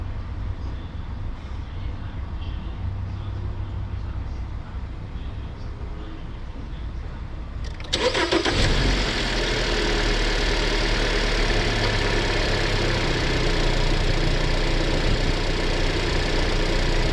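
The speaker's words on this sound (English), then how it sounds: "or crank the car up." A Dodge Dart engine cranks and catches at about eight seconds, then settles into a steady, loud idle close by, following a quieter stretch of background rumble.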